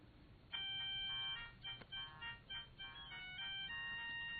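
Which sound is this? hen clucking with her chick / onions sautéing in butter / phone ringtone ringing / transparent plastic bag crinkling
phone ringtone ringing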